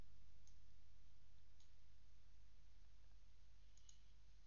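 Computer mouse clicks on a Windows 10 PC, a few sparse, faint single clicks spaced out over steady background hiss, with no voice.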